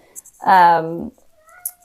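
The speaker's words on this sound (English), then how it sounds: "So if you hear my cat meowing," A cat gives one clear, drawn-out meow from behind a closed door, lasting about half a second, loud and close, with faint room sounds around it.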